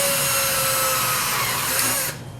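A power drill whines steadily as it bores into a piece of cherry wood, loud and close, then cuts off abruptly near the end as the wood breaks.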